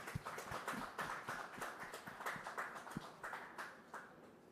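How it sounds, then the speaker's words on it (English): Audience at a conference session on responsible quantum computing and AI security claps for an introduced speaker; sparse, irregular claps from a modest crowd, fairly faint and thin, with no talking. "A big round of applause for Sachin, please."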